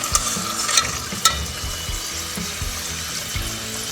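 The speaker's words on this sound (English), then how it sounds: "Just frying these up in a canola oil." Steady sizzling and crackling of turkey empanadas frying in hot canola oil, with a few sharp pops and clinks near the start, continuous and close.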